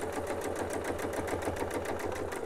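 A sewing machine stitching a quilt with a Westalee clamshell template runs steadily, a fast even mechanical chatter throughout with no talk.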